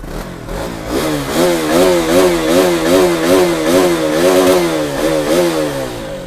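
Single-cylinder sport motorcycle engine revving hard at close range, a loud buzzing drone rising and falling in repeated throttle blips, with no voices over it.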